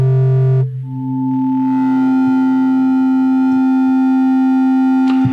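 Dry, unprocessed electric guitar with the amp, cabinet, distortion and reverb switched off: a sustained clean note, then a detuned third-harmonic pitch-shifted layer enters, a bright steady tone ringing on alone with small clicks.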